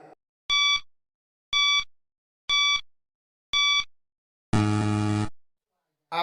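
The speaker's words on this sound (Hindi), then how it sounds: "आपका टाइमर स्टार्ट होता है अब से।" Four short, evenly spaced electronic beeps from a quiz countdown timer, followed by a longer, louder buzzer tone, with no talking over them.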